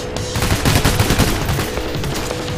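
Rapid bursts of gunfire from a heist-shooter video game crackle loud and close, dense overlapping shots in quick succession with no talking.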